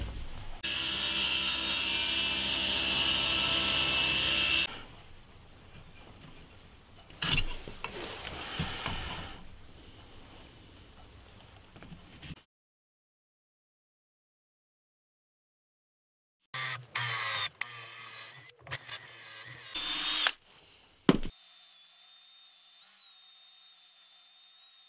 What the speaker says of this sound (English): I'm just going to machine some more ash down to 30 millimeters square by 130 millimeters long.